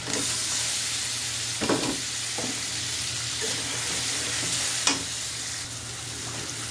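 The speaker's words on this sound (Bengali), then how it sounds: "মাছটা দিয়ে দিচ্ছি। মশলাটা কষানো হয়ে গেছে।" Fish goes into a pan of well-fried spice paste and sizzles with a constant hiss, broken by a few sharp spoon scrapes and stirs nearby.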